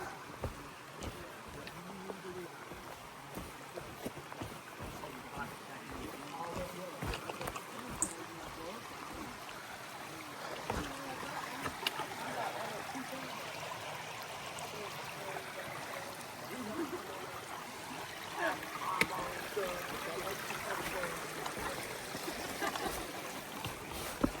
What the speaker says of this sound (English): Well, let's do this creek crossing.